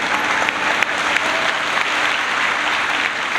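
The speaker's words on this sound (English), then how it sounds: "Give yourself a round of applause." A large audience applauds loudly and steadily at a Spike Lee talk at Rio Innovation Week, dense continuous clapping filling the full stretch without a break.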